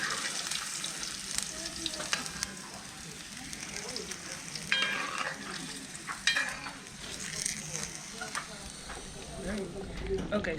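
Sierra Leone style fishballs fry in oil with a continuous, crackling sizzle that swells and fades, broken by occasional stirring clatters, fairly close but not loud.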